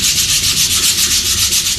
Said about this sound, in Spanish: Hay que ir lijando y probando para no pasarse.